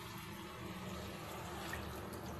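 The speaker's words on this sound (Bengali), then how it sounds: "আমি এর মধ্যে পরিমাণ মতো জল দিয়ে দেবো।" Water poured into a simmering thin fish curry with pointed gourd, a steady soft splashing wash that runs unbroken and fairly faint, with no one speaking.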